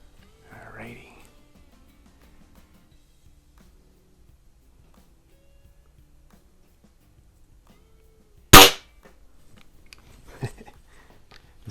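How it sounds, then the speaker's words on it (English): An antique Quackenbush spring air rifle, over a century old and loaded with premium pellets, fires once with a single sharp, loud crack and a hollow spring twang. A softer follow-up noise comes about two seconds later in an otherwise quiet room. "This thing makes a real funny twanging sound when the spring expands."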